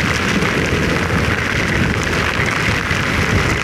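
Heavy rain pours down during a ride through a deluge, a loud dense continuous roar of water hitting surfaces with no pauses and no voices.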